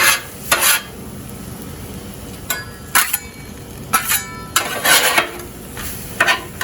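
Eggs and bacon tossed and stirred with a spatula on a hot Blackstone flat-top griddle for breakfast burritos: a steady soft sizzle with several sharp metal scrapes and clanks of the spatula against the griddle, close by, no talking.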